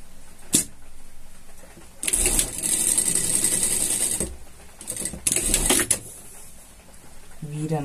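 A sewing machine runs in two bursts, stitching a seam on a pet harness, a longer run and then a short one, with a voice talking over the quieter gaps between them.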